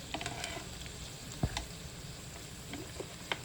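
Yogurt-coated chicken malai tikka pieces frying in a pan over low gas give a faint, steady sizzle, broken by a few soft clinks and taps as they are turned.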